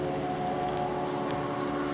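Steady patter of rain falling on surfaces in Sukhum at New Year, a constant wash of drops with a low hum beneath.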